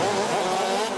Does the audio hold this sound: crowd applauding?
no